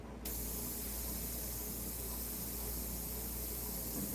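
A steady, close hiss of opaque paint being sprayed onto a painting of ocean waves and reflections, continuous and even after starting abruptly.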